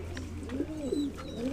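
Pigeons coo in soft, repeated rolling calls, fairly close and clear over a low steady background hum, with a few brief gaps between phrases.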